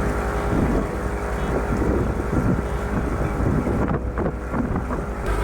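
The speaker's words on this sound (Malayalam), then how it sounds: "കാരണം ബോട്ട് തിരിഞ്ഞുകൊണ്ടിരിക്കുകയാണ് ഇപ്പം" A motorboat crosses the water at Aanayirangal near Munnar, its engine a constant drone close by, with wind buffeting and rushing water running through the whole ride.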